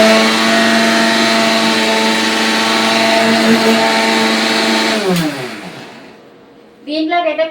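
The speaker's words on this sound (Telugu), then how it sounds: "ఇప్పుడైతే మిక్సీ పట్టేసుకుందాం ఇది మొత్తం." A kitchen mixer grinder blends green chillies and ginger, a loud steady motor whine that winds down near the end, followed by a short burst of noise.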